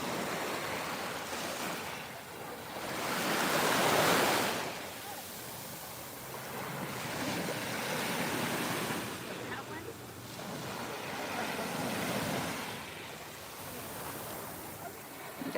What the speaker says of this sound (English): Got some great waves coming in over there.